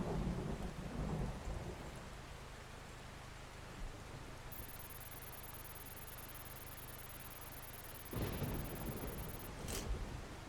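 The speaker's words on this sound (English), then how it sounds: "Hail, go away." A thunderstorm rolls in the Outbrk storm-chasing game, with low rumbling thunder at the start and end over a constant dense patter of rain or hail. A thin high electronic tone runs through the middle, and no voices are heard.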